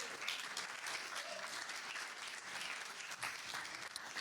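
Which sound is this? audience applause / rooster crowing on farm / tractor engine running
audience applause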